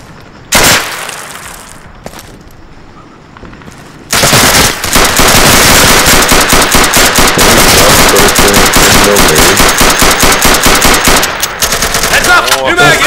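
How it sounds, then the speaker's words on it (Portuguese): Continuous automatic gunfire in Insurgency, heard close and loud. A few early shots give way to a relentless rapid-fire stream that lasts over eight seconds, with brief louder cracks mixed in. "Alguém tava atirando no meu lado aqui sem parar"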